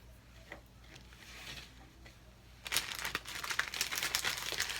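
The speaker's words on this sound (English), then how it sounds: "And just push this moss down." Moss being pressed down into a small glass cloche base for a handmade decoration gives soft crinkling and rustling, faint at first, then louder and more busy in the second half, close up with no talk.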